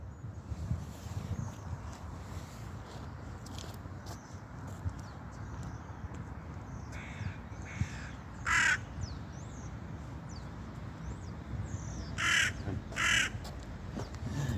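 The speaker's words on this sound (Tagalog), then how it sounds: "Yan yung mga ibon ko." Crows being fed outdoors give several loud harsh caws in short bursts, two pairs late in the stretch, over a rustling, breezy background with soft thumps and movement.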